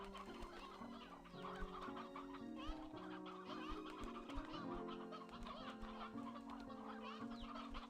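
Elder hen clucking repeatedly in Slime Rancher 2, steady close clucks over the game's harmonic music bed, no talk.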